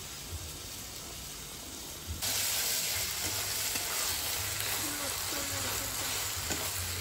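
Ground mustard and green chilli paste hits hot oil in a frying pan, setting off a loud, steady hiss and sizzle that holds up close for several seconds, with faint stirring scrapes underneath.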